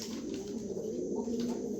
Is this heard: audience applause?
no